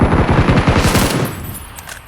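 Rapid machine-gun bursts from PUBG Battlegrounds, loud and close, fire steadily for about a second before trailing off into echoing decay.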